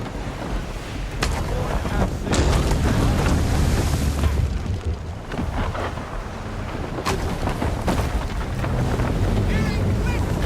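Sailing ship under sail at sea in Assassin's Creed III: continuous rushing wind and breaking waves against the hull, loud and close, with a few sharp thuds or creaks scattered through.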